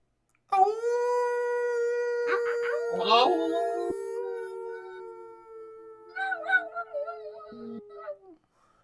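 People imitate wolves with voices, one long sustained human howl held for several seconds, then wavering yips and a falling howl near the end, loud and close in a quiet room.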